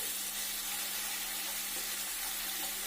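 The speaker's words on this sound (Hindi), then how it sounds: "और अब इसमें हम डालेंगे पिसा हुआ अदरक, लहसुन और प्याज का पेस्ट" Ginger, garlic and onion paste hitting hot oil for a fish curry, an even, dense sizzling hiss with no distinct stirring strokes, close but fairly quiet, steady for the whole moment.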